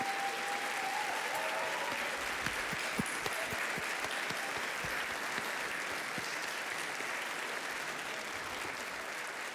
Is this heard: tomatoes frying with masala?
no